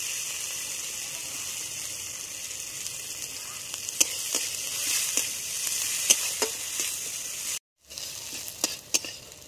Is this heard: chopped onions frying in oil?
yes